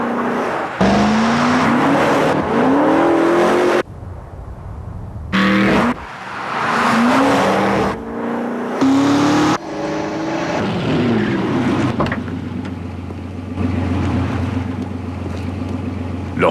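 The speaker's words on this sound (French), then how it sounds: "la toute nouvelle Dodge Magnum, propulsée par son moteur Hemi" A Dodge Magnum's Hemi V8 engine roars and revs in repeated bursts, rising in pitch, separated by brief cuts, then settles into a lower steady rumble.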